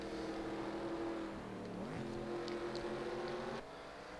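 Race cars at the 24 Hours of Sonoma roar through a tight uphill corner, engines droning loudly with pitch dropping as they brake and then rising again as they accelerate out.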